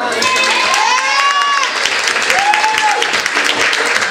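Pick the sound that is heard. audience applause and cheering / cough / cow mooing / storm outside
audience applause and cheering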